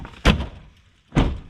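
Two heavy slams of a Land Rover Defender door, about a second apart, each a loud close thunk with a short metallic ring, with quiet between them.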